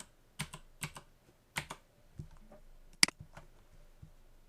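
A computer keyboard is typed on in short, uneven bursts of light clicks, close and quiet, with a sharper key clack near the end and no voice.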